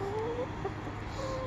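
Backyard chickens make soft, high clucks and squeaky calls at close range over a steady outdoor background, in short scattered bursts.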